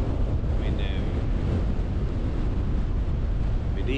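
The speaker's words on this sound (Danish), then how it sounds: "Vinden er gået i vest nu og er temmelig kraftig." A strong west wind roars over the Limfjord in Denmark during a January thaw as the ice breaks up, heard as dense, constant buffeting across the microphone.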